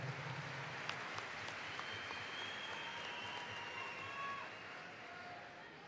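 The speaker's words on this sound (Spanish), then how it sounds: "Aplaudan, aplaudan." Applause from the crowd at an FMS Argentina 2019 freestyle rap battle, a dense, fairly faint wash of clapping with a few sharp claps and whistles, easing off toward the end.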